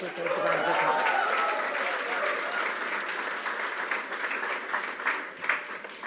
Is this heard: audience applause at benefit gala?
yes